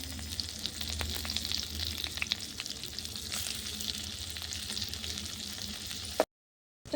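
Chopped onion frying in oil with bay leaf and whole garam masala for egg pulao on a clay stove, a steady close crackling sizzle with occasional sharper pops, stopping abruptly at the end.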